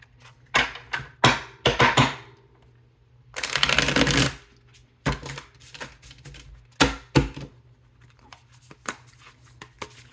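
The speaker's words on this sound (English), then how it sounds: "We'll do one more shuffle." Tarot cards being shuffled in quick riffling bursts, one longer riffle in the middle, with short taps and pauses between, close and crisp.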